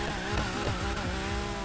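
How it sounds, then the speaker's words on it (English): A car engine in a racing video game, a loud, close, rumbling exhaust note with rhythmic low pulses suggesting pops and crackles, running steadily for under two seconds. "the sound of this car sounds amazing. Like the pops, like everything"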